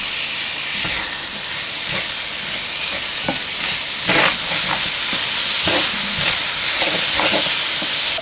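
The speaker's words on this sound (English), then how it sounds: "Now we're gonna toss in our onions and some garlic." Onions and garlic sizzle steadily in a hot pan, a loud continuous frying hiss with occasional stirring scrapes and bursts.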